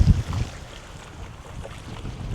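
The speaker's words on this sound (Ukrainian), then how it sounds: "Вітер не дуже стихає." Steady wind roars and buffets a microphone outdoors at a feeder fishing world club championship, a continuous broadband rush with a few stronger low gusts at the start.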